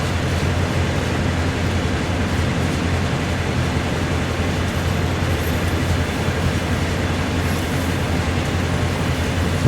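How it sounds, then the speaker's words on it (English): Train in Train Sim World 4 on the Horseshoe Curve route, heard as a steady, loud rumble and rolling drone that holds evenly throughout with no talking. "Another train coming up."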